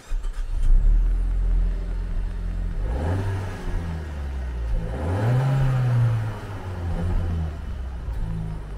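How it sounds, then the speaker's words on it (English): Suzuki Swift Sport Hybrid 2023 with dual exhaust tips revving outside: two rising engine surges swell and fall back over a low idle, moderately close, with no talk. "we've got the dual exhaust tips as well, which sound really good."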